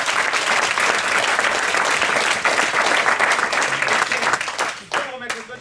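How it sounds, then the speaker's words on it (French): A theatre audience applauds loudly for the stage manager during a live performance, sustained dense clapping from many hands that thins out and breaks up near the end, with scattered claps trailing off. "Johanna, la régisseuse qu'on peut applaudir bien fort s'il vous plaît."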